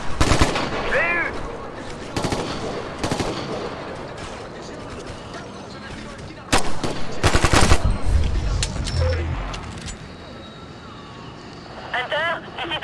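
Suppressive gunfire in the Ghost Recon Future Soldier video game: repeated bursts of automatic fire, loud and close, with a heavy sustained volley in the middle, mixed with mechanical clicks and game voices.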